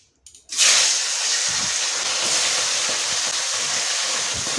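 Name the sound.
fish frying in oil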